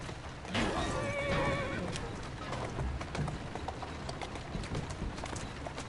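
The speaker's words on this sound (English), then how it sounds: "Who's a good horse?" A horse in the Victorian London setting of Assassin's Creed Syndicate gives a clear whinny near the start, followed by steady clip-clopping hooves throughout under a soft game ambience.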